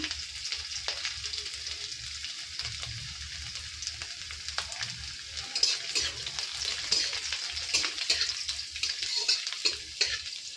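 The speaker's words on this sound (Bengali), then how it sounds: "এরপরে আমি রসুন কুচি দেবো, আদা কুচি দেবো," Chopped garlic and ginger sizzle steadily in hot oil for a Bihari kadhi with doi bora, a continuous bright frying hiss with occasional soft stirring scrapes and no talking.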